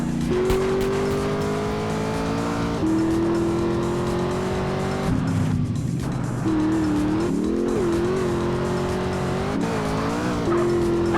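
A car engine in the video game GTA San Andreas roars and revs continuously, its pitch rising and falling through gear shifts, with tires squealing at moments, loud and close.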